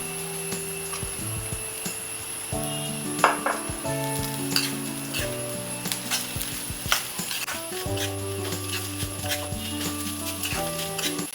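Grated coconut with onions sizzles and crackles in a hot pan for panikaram, with steady frying hiss broken by scraping stirs and occasional clinks of a spoon against the pan, close and continuous with no talk.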